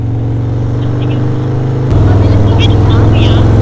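A Harley-Davidson motorcycle engine runs up close with a loud, steady low idle that suddenly steps up into a heavier, louder throb partway through.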